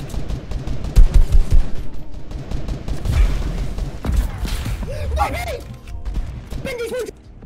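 Gunfire in a competitive online shooter match: rapid bursts and single shots crack loudly and close, with mechanical clicks and creaks between them. Excited voices talk over the shooting.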